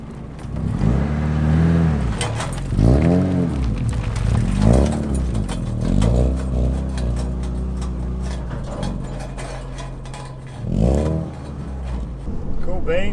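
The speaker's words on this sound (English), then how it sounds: "let's get this car in the trailer and get out of here" A budget race car's engine revs in several short rising bursts with pauses between them as the car is driven slowly onto a trailer, loud and close.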